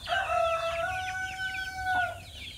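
A rooster crows one long drawn-out call nearby, with chickens clucking faintly in the background.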